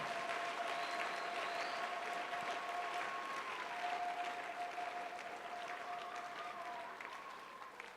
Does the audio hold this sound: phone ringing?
no